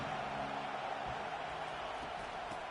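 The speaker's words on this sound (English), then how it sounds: "This crowd bringing the energy and noise early." Steady roar of a football stadium crowd at a Florida vs Miami game, a dense continuous wash of voices with no breaks, heard alone at moderate level.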